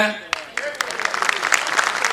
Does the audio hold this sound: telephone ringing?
no